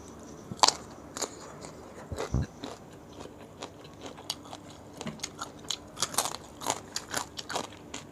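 Crunchy bites and chewing of crispy pork eaten with spicy som tam, close up, with a sharp first bite followed by an irregular series of crackling crunches.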